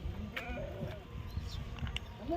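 Several lambs bleat in short, wavering cries, overlapping nearby in a sheep pen during the rainy season, against a low rumbling background with faint shuffling.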